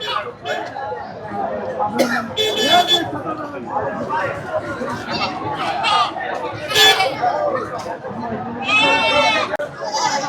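Goats bleat loudly at a livestock market in Ranipettai, with several overlapping calls rising above steady crowd chatter and people talking nearby.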